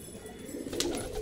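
Pigeons let out of their loft give a short, soft cooing call, close by and brief.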